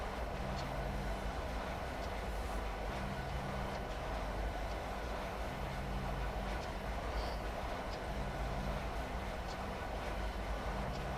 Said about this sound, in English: I'm just letting the train slow down now.